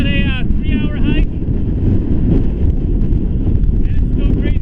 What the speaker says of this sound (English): it's still crazy windy here